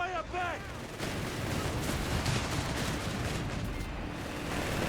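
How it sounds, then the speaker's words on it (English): Heavy automatic fire in the video game Company of Heroes 3, with a Flak 30 and an M3 half-track in the fight, a dense, continuous rattle of gunfire and battle noise beneath a commentator's voice. "The South Brass will be met with heavy automatic fire."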